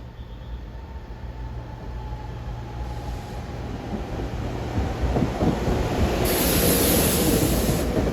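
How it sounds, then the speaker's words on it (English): A train bound for Trenton on the Philadelphia-area rail corridor rumbles past with a low steady roar that swells louder as it nears, plus a faint hum and a brief high hiss near the end. "And this train is bound for Trenton on the corridor."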